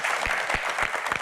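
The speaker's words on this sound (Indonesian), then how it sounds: "tepuk tangan hadirin sekalian" Audience applause comes as a short, steady patter of clapping with soft low thumps at regular intervals, all brief and moderately close.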